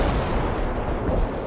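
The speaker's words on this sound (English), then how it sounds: "Firing smoke grenades." Smoke grenades fired in the World in Conflict video game, a loud, dense rumble of booming blasts filling the whole short moment.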